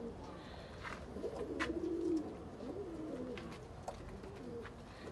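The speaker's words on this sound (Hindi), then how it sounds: "ये टैडी कबूतर" Teddy breed pigeons cooing at a breeder's loft in Faisalabad, soft throaty coos rising and falling over quiet background noise, fairly faint and close.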